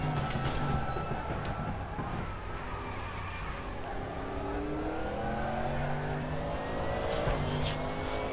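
GT3 race car engine at Sepang in the RaceRoom racing game, a continuous loud drone that rises and falls through gear changes as the car accelerates and slows, with no talk over it.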